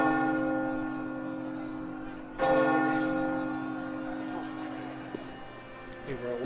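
Church wedding bells ring in Assassin's Creed Valhalla as a sustained, resonant peal with one stronger strike partway through, while someone talks over them.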